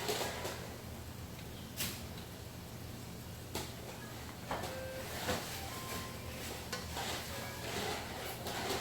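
Garlic goes into a pan while cooking Jamaican steamed snapper, giving a quiet, steady sizzle broken by a few soft utensil scrapes and clinks as it is stirred, with no voices.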